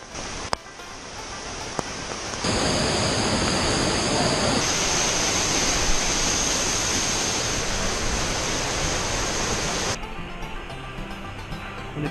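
A waterfall along a mountain hiking trail gives off a steady, dense rush of falling water that fills the scene at close range and stays constant for several seconds before easing slightly.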